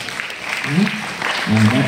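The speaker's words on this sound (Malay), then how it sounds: "Dr. Muhammad Kasri bin Saidun, berikan tepukan." An audience applauds a visiting associate professor from a university's school of education at a secondary school open day book review event in Pahang, Malaysia; moderate clapping continues while a voice talks over it.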